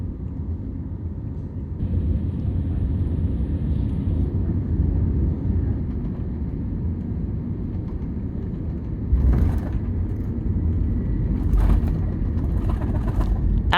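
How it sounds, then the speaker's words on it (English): An airliner touching down at Hong Kong International Airport, heard from the cabin as a steady low engine and airframe rumble with a couple of brief thumps and rattles, continuous and fairly loud throughout. "we touched down at Hong Kong International Airport"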